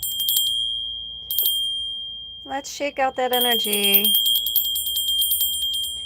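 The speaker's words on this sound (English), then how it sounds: "Fairy bell coming through." A small fairy bell rings in quick, bright tinkling bursts, starting and stopping, then shaking rapidly near the end, while someone speaks briefly over it and a faint high tone hangs underneath.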